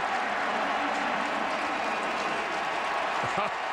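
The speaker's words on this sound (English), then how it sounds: "Listen to the crowd give it up for Dominique" Football stadium crowd at a Jaguars versus Colts game cheering for a returning player, a loud, continuous roar of thousands of voices and clapping that fills the space evenly, with a commentator's voice faintly underneath.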